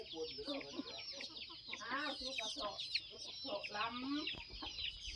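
Chickens cluck nearby in a busy, overlapping chorus of short clucks and squawks, with a person talking faintly underneath.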